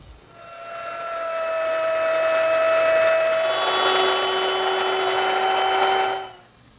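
A wood router runs steadily along a clamp guide, cutting a shallow recess just under a quarter inch deep for an inlay in a toy chest, its whine holding for about six seconds and dropping in pitch midway before it stops.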